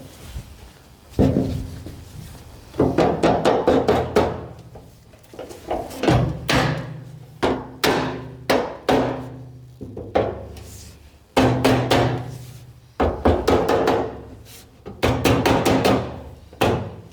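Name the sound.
rubber mallet hammering a steel piece into place on a 1949 Willys pickup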